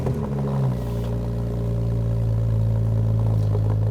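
A Porsche 997.1 turbocharged engine cranks and fires, settling into a deep, steady idle with a low rumbling tone and faint mechanical clatter, close and loud with no one speaking.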